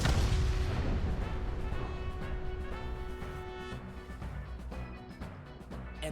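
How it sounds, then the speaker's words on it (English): A violent in-game explosion from AI: The Somnium Files, a fuse burning inside a body setting off explosives; a loud, dense blast with a long rumbling roar that slowly decays over several seconds, with no talk. "Sometime later, the burning fuse inside the body reaches the explosives."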